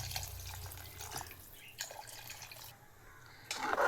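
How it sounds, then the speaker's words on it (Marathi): Water poured into a pot of sautéed rice for a peas rice dish, a soft splashing and dripping close by, growing stronger at the end. "आता आपल्याला याच्यामध्ये ऍड करायचे पाणी."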